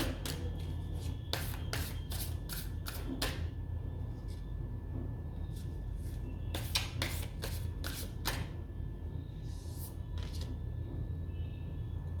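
Tarot cards shuffled by hand in repeated bursts of crisp riffling and snapping, close and fairly loud, with short pauses between bursts and a low steady background hum.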